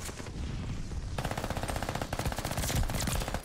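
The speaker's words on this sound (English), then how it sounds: "Like, I legit feel like I have ammo for days with this gun. And the fire rate is this incredible feeling on this gun" The Armaguerra 43 submachine gun in Call of Duty: Vanguard fires long, rapid automatic bursts. The fast, evenly spaced shots are loud and close, with a brief lull near the start before the fire picks up again.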